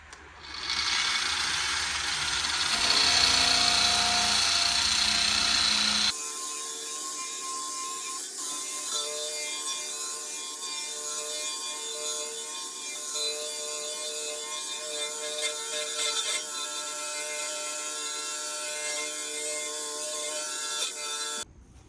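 Sanding down the bumper of a 1966 International Harvester: a loud, harsh, close abrasive rasp for several seconds, then a steadier, quieter mechanical whir with a humming tone for the rest.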